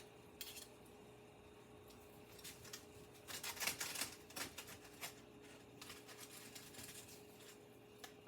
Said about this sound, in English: I'm just going to take this and slice a couple of slices off so I can plate it once the spinach is done.